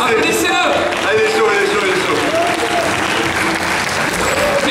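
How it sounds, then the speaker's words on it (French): Audience applause at the Mangame Show convention stage in Fréjus, 2016, a sustained burst of clapping and crowd noise from a room full of people, loud and continuous with cheering voices mixed in. "Applaudissez-le. Allez,"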